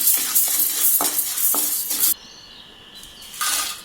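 A spatula stirs and scrapes dal and spices as they roast in a dry pan until golden brown for idli podi, giving repeated scraping strokes over a soft sizzle, then a quieter stretch before stirring resumes.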